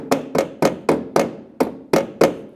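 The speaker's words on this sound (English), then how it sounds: "And with the small hammer, we can just tap this back down." A small hammer taps eight times in a steady rhythm, pressing the scored metal back down on the cab corner of a 2001-2006 Chevrolet Silverado 2500, each sharp close strike ringing briefly before the next.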